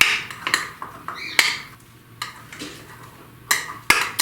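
A spoon mixing colored spumoni cake batter in a bowl, with irregular clinks and scrapes against the bowl, close and moderately loud, with brief pauses between strokes.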